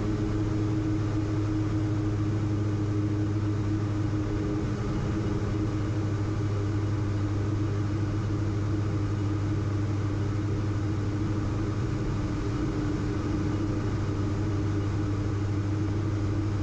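The twin propeller engines of a light aircraft cruising at about 60% throttle on a flight across the Atlantic from Iceland, heard as a steady loud droning hum with strong low tones that never changes, with no voices.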